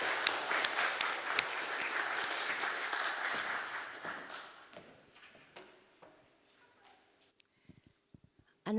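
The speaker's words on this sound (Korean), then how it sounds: "다시 한번 박수해 주시면 좋겠네요." A church congregation applauds a second time for a discipleship program graduate, with moderate clapping that holds for a few seconds, then tapers into scattered claps and fades to near silence before a brief bump at the end.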